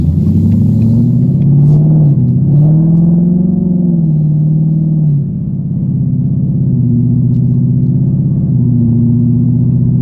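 A straight-piped, Whipple-supercharged Ford Mustang V8 revved from about 2,500 to 6,500 rpm on the throttle, a loud, close, continuous engine roar that rises and settles in pitch over several seconds, with no talking.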